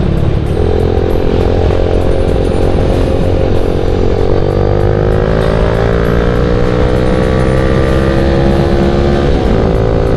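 A Yamaha Jupiter MX motorcycle with a non-DOHC engine is ridden at a loud, close, constant drone, the engine note sliding gradually as speed changes.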